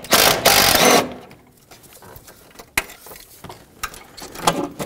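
A 13mm bolt is worked loose from the starter of a 2013-2020 Nissan Pathfinder. A loud, rapid ratcheting burst opens, followed by quieter scattered metallic clicks and taps close by.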